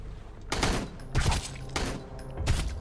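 Rifle shots in the survival game Sunkenland: four sharp, loud reports spaced about half a second to a second apart, each ringing out briefly, with no talk.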